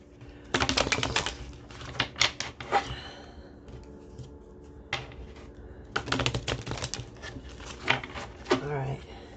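Tarot cards are shuffled in two clusters of rapid, crisp riffling and tapping, close and fairly loud, with a person speaking softly between them.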